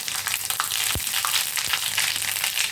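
Cumin, mustard seeds and fenugreek sizzling in hot oil on low heat, a steady close crackle with a couple of sharp pops over a continuous frying hiss.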